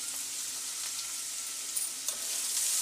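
Carrot pieces frying in salted oil give a steady, close hiss and sizzle, with a couple of brief stirring clicks and pops near the end; no voices.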